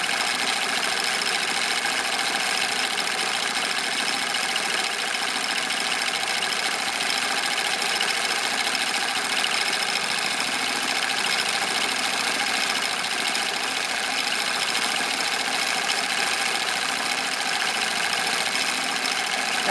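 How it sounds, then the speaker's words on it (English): A sewing machine runs steadily throughout, stitching tiny free-motion quilting for a small background fill, its continuous mechanical hum and rapid needle rhythm close and unbroken with no talking. "And while I'm doing this really tiny stitching, this is easy to do in large quilting as well."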